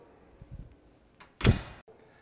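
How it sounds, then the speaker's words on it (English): A gravity feed BBQ smoker door swings shut with a single solid thunk, preceded by faint handling clatter and a brief metallic scrape, all quiet and close. "We'll shut the door."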